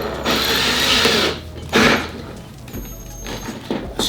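A Ryobi entry-level drill has its hot bit pulled from the chuck, giving short mechanical ratcheting and clicking bursts of the chuck turning, with quieter handling clatter between.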